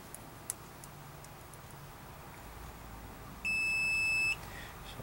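An Autel AutoLink AL-539 multimeter gives a single clear, steady continuity beep lasting about a second, in a quiet room with faint background hiss.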